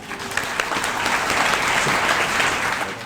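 An audience at a Tulo e Pakistan event welcomes the speaker Qasim Ali Shah to the stage with loud, sustained applause, a dense patter of many hands clapping without pause.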